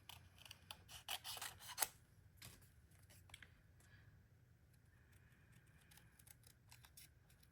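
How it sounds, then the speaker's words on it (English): Scissors fussy cut a paper ghost shape, giving a burst of quick, crisp snips and rustles early on that fades to faint, sparse cuts over a quiet room hum, with no talking. "come around and fussy cut that out"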